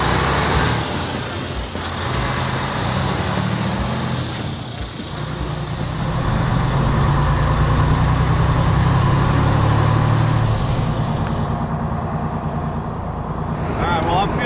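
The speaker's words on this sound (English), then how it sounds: "Clutch feels good, transmission feels good, motor's running good, no check engine lights." A running engine on a vehicle bought at auction, said to have a good clutch and transmission, holds a steady low drone throughout, with a voice talking over it.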